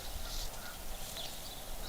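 Chickens and turkeys cluck and gobble close by in a Colorado backyard flock, a steady, dense stream of fowl calls with no talk.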